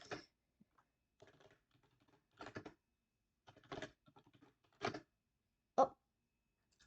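Password being typed on a computer keyboard in a quiet room, several short bursts of soft key clicks separated by pauses, close and fairly faint.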